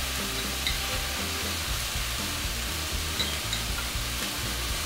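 Ginger-garlic and green chili paste frying with vegetables in a pan, a steady close sizzle with rhythmic scraping of a stirring spoon and no talking.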